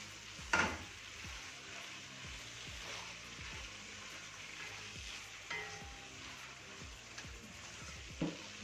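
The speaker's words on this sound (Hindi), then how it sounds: "और इसको अच्छी तरह मिक्स कर लेंगे।" Chicken jalfrezi frying in a pan as green chillies, ginger and coriander are stirred in: a soft, steady sizzle with a few brief scraping stirs, fairly quiet and with no voices.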